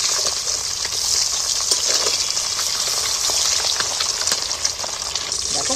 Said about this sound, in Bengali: এবার আমি মাছটা তেলের মধ্যে তুলে দিচ্ছি।